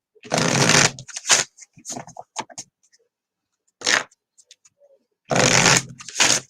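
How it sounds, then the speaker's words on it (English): Tarot cards are shuffled in several quick, crisp riffling bursts, close and fairly loud, separated by short pauses with a few small clicks and taps. "Let's pull some cards on that general outlook here."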